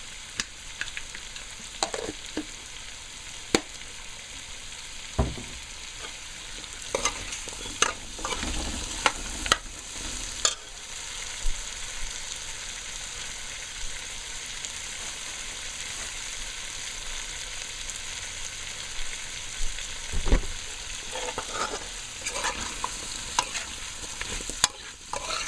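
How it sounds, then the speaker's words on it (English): Eddoe curry with shrimps fries in masala, giving a steady soft sizzle throughout with repeated scraping stir strokes of a spoon against the pot. No voices are heard. "So let this fry up with the masala"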